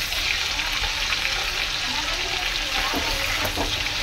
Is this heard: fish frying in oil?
yes